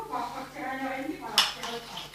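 A spoon stirs a sticky homemade slime of flour and water in a bowl, giving soft scraping with a sharper clink against the bowl partway through, under a voice that talks most of the time.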